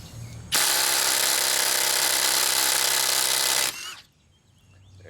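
A cordless impact driver removes a lug nut with one loud, close burst of about three seconds, a harsh, rapid hammering whir. It cuts off sharply into quiet.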